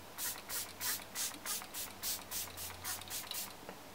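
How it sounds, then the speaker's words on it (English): Makeup setting spray misted over a face in a rapid series of about a dozen short, soft hissing pumps, evenly spaced and close, with no talking. "spray it all over to keep my makeup on"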